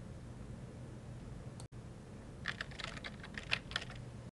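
A short burst of computer keyboard typing, quick clustered clicks for about a second and a half, rises over a steady low room hum after a moment of quiet.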